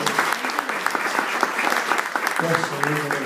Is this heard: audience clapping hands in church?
yes